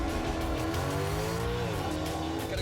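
A car, one of a Maserati, a Mercedes or an Audi, accelerates hard in a race with a loud steady engine roar whose pitch climbs, dips at a gear change, then rises again.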